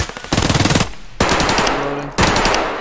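Gunfire in the video game Escape from Tarkov: loud, close bursts of rapid automatic shots, three separate volleys in quick succession.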